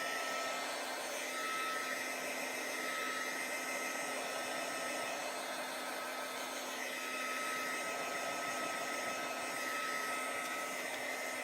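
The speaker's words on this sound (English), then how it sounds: "I'm using an ancient heat tool from Marvy" An old Marvy heat tool blows steadily for the whole stretch while drying paint on an art journal page, giving a constant close whirring hiss with a fixed motor hum and no speech.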